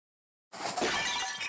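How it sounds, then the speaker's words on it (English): Glass clock shattering in a visual novel game, a sudden loud crash after silence followed by a bright, sustained spray of breaking glass and tinkling shards. "The sound of shattering glass is more annoying than he thought"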